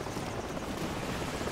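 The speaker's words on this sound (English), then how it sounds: "Helicopter troops closing in fast." A helicopter's rotor thrums in a dense, steady wash of noise, loud and constant throughout, in the video game Call of Duty 4: Modern Warfare.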